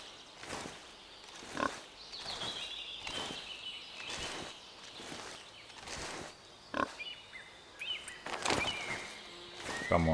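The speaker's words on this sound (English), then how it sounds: "wild boars, or in our case, warthogs or bush pigs" Warthogs or bush pigs in Cabela's Big Game Hunter: Pro Hunt grunt and snort in repeated short bursts, fairly faint, mixed with rustling footsteps and light ambient bird and insect sounds.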